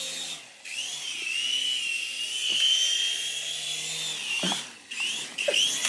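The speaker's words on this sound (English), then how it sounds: "it's Kyle's turn to try to fly the helicopter onto the chair" A small remote-control toy helicopter whirs steadily as it flies indoors toward a chair, a thin high-pitched motor whine held for several seconds with a few soft knocks.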